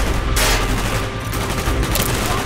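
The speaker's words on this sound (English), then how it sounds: "Gunfire's drawing attention." Sustained gunfire in the Call of Duty Black Ops video game, a loud continuous fusillade of overlapping shots with sharp bursts, no speech.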